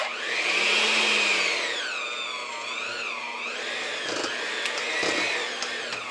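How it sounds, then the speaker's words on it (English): An electric hand mixer creams cream cheese and shortening in a bowl for cookie filling, giving a steady, loud motor whine whose pitch rises and dips as the beaters work the thick mixture, with no talking. "So we're creaming up this cream cheese and the shortening."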